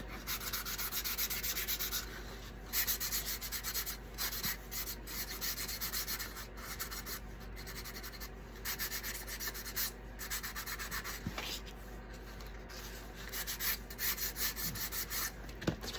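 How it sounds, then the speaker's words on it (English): Fine sandpaper rubbed by hand over a wooden shutter to distress it, quiet close scratchy strokes repeating in short bursts with brief pauses between them. "I did put a really, really fine piece of sandpaper on this."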